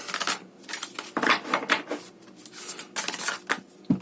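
Crisp, irregular riffling and slapping of a tarot card deck being shuffled up close, in quick bursts with short pauses.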